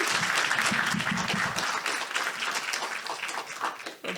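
An audience applauds as Elisabeth Young, president of the Center for Political Innovation, is welcomed at a political summit opening, a loud sustained burst of many hands clapping that holds steady for several seconds before easing slightly near the end.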